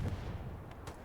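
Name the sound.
artillery fire and explosions in a war video game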